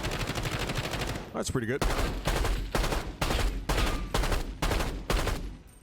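Bursts of SWAT 556 rifle fire from Call of Duty ring out loud and close: one long rapid stream, then a series of short separated bursts in a steady rhythm, with a brief spoken remark between them.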